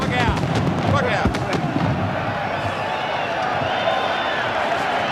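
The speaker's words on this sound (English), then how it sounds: "The fireworks are still erupting here." Fireworks burst at a 1990 rugby league match between the Illawarra Steelers and Canterbury-Bankstown Bulldogs, a dense run of crackling pops and sharp bangs over a continuous crowd roar, loudest in the first two seconds before settling into a steady wash.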